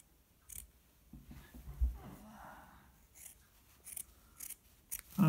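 Scissors snip through a steek in Fair Isle knitting, giving a few short, close cuts with soft handling noise and breathing between them.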